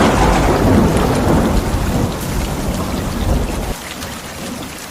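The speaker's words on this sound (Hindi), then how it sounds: "अब बहुत ज्यादा कड़ाके की बारिश होना शुरू हो गई थी।" Heavy rain pours down with deep rolls of thunder, a loud, dense continuous roar that eases slightly near the end, with no voices.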